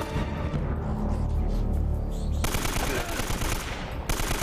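Video game gunfire in Uncharted: Drake's Fortune, dense rapid automatic bursts that switch abruptly midway to a harsher, louder volley, with a voice talking under the shooting.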